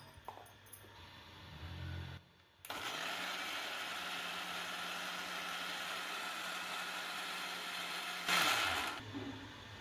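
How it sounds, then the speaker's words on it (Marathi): A mixer grinder whirs loudly for several seconds after starting up, grinding gram flour and water, holding a steady pitch, then cuts off with a brief louder burst near the end. "हे ग्राइंड करून घेऊ"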